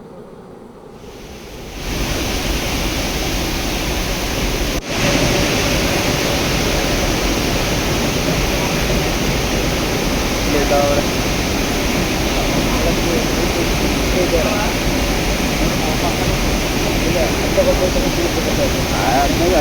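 The Kabini River overflowing after heavy rainfall makes a steady, loud roar of rushing water that rises after the first two seconds and continues unbroken, close to the listener.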